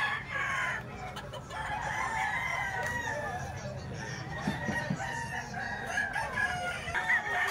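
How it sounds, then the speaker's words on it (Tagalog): Many roosters crow and cluck over one another at a busy rooster market in the rain, a dense, steady chorus of overlapping calls close by with crowd murmur beneath. "Kahit maulan, ang daming manok mga boss."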